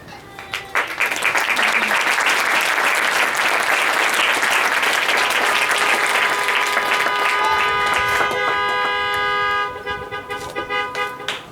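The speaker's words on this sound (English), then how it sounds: "a round of applause for all of these awardees" Sustained, loud audience applause for awardees at a Fort Benning military graduation, steady clapping for nearly ten seconds mixed with car horn toots before fading into scattered claps.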